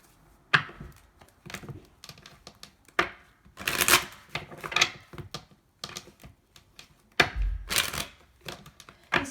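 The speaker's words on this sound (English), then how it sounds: "These cards are not really wanting to shuffle" Tarot cards are shuffled by hand in a series of quick riffling bursts and soft taps, each lasting about a second with brief pauses between, close by and alone.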